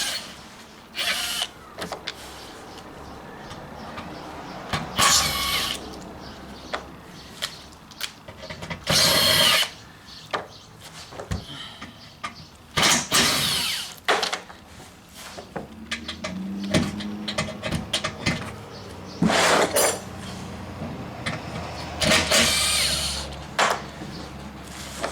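Power drill spinning out 7mm perimeter screws from an underbody cover on a 2019 Ford Edge 2.0L, in short intermittent whirring bursts with pauses and clicks between, fairly close and loud.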